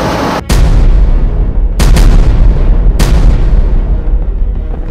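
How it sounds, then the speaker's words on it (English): Live bombs dropped by a Tu-22M3 bomber explode on a simulated enemy target in three heavy, booming blasts, each followed by a rolling rumble that fades, loud with no voices. "bomber roared into the sky and unleashed live bombs on a simulated enemy target"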